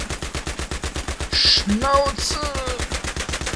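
Rapid automatic gunfire in the video game Battlefield 3 rattles in an even, continuous rhythm throughout, with a short shouted voice cutting in midway.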